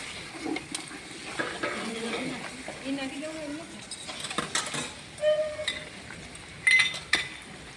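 Green garlic and ginger paste is stirred in a pan, with metal clinks and light scraping from a utensil. A person talks over part of it at close range.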